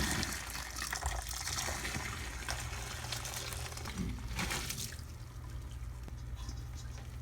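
Cooked spaghetti drained from a pot, hot water pouring out in a continuous splashing rush, fairly close, with a couple of brief surges and no talk.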